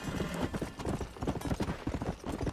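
Horse hooves clip-clopping in the Red Dead Redemption video game, a quick, even trotting rhythm of hoofbeats heard alone at moderate volume.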